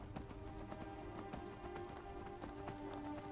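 Horse hooves clip-clopping at a steady running pace on a mountain pass in Skyrim, a quiet, continuous rhythmic patter alone in the background.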